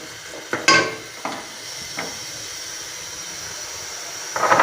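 Macaroni frying and being stirred in a pan, a steady soft sizzle with a few sharp scraping stir strokes near the start and a busier clatter of stirring at the end, close and without talk.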